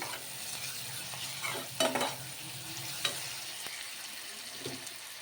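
Chopped onions being stirred and fried in a pressure cooker for mutton curry, a steady soft sizzle with occasional louder scraping stirs, close and alone without talk.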